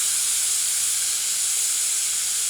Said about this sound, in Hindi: प्रेशर कुकर को भाप मुक्त करते हैं।